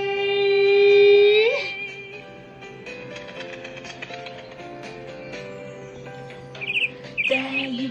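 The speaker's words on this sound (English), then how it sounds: "I know your little chirp is meant specially for me." Small bird chirping, bright short tweets and a few quick trills rising over a soft musical background, moderately close and lively, with brief chirps clustered near the end.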